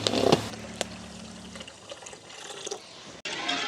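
Water poured onto sugar in a pot to make syrup for boondi laddu, a close splashing pour that settles into a soft trickle, in a village home kitchen with no talk.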